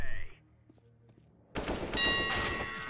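Gunfire erupts in a video game shooter, a loud burst of rapid shots that fills the second half after a quieter stretch with faint sounds.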